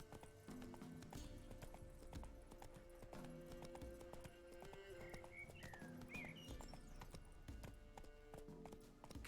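Horse hooves clip-clop at a steady gallop through The Witcher 3 game world, rhythmic and fairly close, with a brief whinny and game music and ambience underneath.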